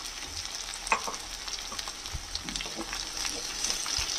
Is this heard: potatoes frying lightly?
yes